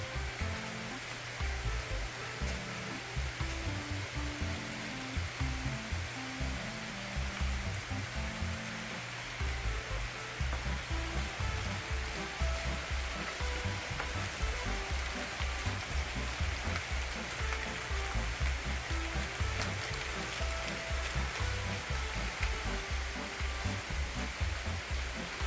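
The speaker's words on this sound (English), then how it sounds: "And it's just starting to rain" Rain falls on a patio at a villa in Boca Chica, Panama, a dense, steady hiss of drops that stays constant throughout with no voices.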